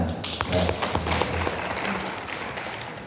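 An audience at a formal speech event about the Indonesian language breaks into dense applause that is loud at first and then tapers off steadily over three seconds.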